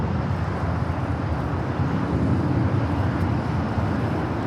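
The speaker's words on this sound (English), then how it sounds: "JetBlue flight heading to JFK, A321, flight 124" A JetBlue Airbus A321 departing LAX for JFK produces a steady, broad jet roar heard from a distance, with no talk.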